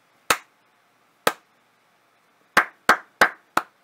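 Sharp, nearby hand clapping on a budget lav mic test, two separated claps and then a brisk group of four, each bright and percussive with a short ring, no voices present.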